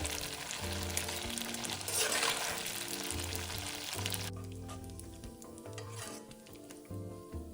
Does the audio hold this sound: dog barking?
no